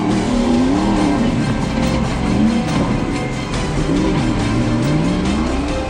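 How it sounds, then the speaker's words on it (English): An off-road rally race truck, a Nissan Navara, revs hard, its engine note climbing and falling in repeated sweeps, loud and close over gravelly road noise. "set by Terence Marsh and Kurt Darren in the red-lined Nissan Navara, setting them up for a good run on race day."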